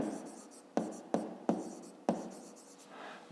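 Pen strokes scratch across paper during a fifth-grade maths exercise, with several sharp onsets as new marks begin, each followed by a steady scratching run, close and fairly quiet, no talk.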